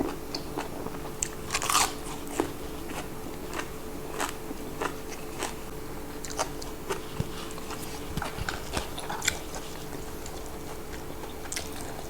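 Close, crunchy chewing of boiled apple snails with repeated crisp bites and crackles, steady and irregular, heard alone with no talking.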